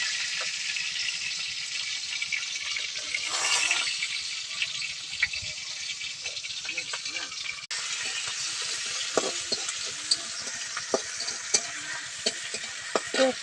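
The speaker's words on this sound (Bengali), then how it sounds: "পেঁয়াজটা একটু কষিয়ে নেব।" Onions fry in oil in a pan on a clay stove outdoors, with a steady sizzle broken by repeated scraping and clinking as they are stirred.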